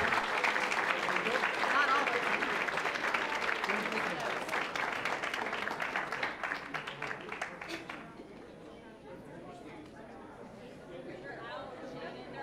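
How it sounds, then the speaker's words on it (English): Audience applauds school board trustees at a regular board meeting, a dense sustained round of clapping with some chatter that fades and thins out over the last few seconds. "Let's give a round of applause to our trustees for all that they do."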